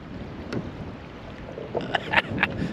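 Strong wind buffets the microphone around a canoe on open water. It gives a constant rough rumble, with a few sharper splashes or knocks near the end.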